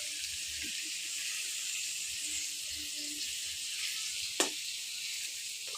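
Food sizzles and fries in a pan as a little boy cooks at home, a steady, fairly quiet hiss with faint background murmurs and a couple of sharp clinks near the end.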